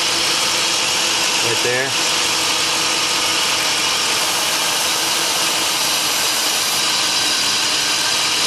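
A BMW E38 740i's M62 V8 idles during a vacuum leak test, the idle shifting as a bad throttle body gasket is found; a loud, steady close engine drone runs throughout while someone speaks briefly.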